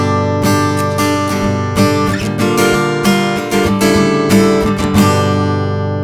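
An acoustic electric guitar played through an amplifier rings out in sustained strummed chords with sharp attacks, steady and fairly loud throughout, no voices.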